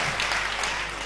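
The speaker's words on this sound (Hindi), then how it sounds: "जरा दोनों हाथ खड़े करके तालियां बजाइए" Loud, dense applause from a large audience at a Hindi poetry recital, a brief continuous roar of clapping close and filling the space.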